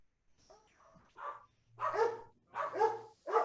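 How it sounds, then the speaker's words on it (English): Several dogs bark in a series of loud, close barks spaced about a second apart, after a few softer yips and whimpers at the start. "Those are my dogs saying thank you."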